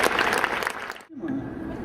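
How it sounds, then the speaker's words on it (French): An audience claps for the 11 participants at the Belcolade 2009 event. A dense burst of applause fades out after about a second, and a voice then speaks over a quieter room. "ça mérite une bonne main d'applaudissements pour les 11 participants"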